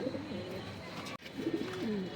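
Racing pigeons, an Ice Bar Damascene male among them, coo close by in soft, throaty bubbling calls, two short phrases split by a brief click, with faint room noise underneath.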